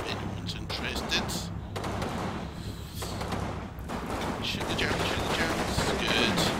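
Gunfire in a World War II war game set in Aachen: dense, continuous crackling rifle and machine-gun fire with thuds, steady and loud throughout, with a voice partly underneath.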